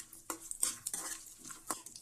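Pistachios and raisins stirred while frying in a pan, a few short scraping and clinking strokes of a spoon against metal with a soft sizzle underneath, close and fairly quiet.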